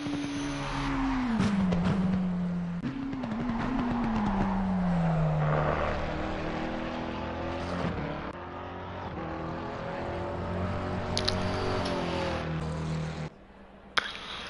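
A race car on the Döttinger straight of the Nürburgring Nordschleife in Assetto Corsa Competizione, during a multiclass online race: a steady engine drone with a gliding pitch as it accelerates and shifts, with no talking.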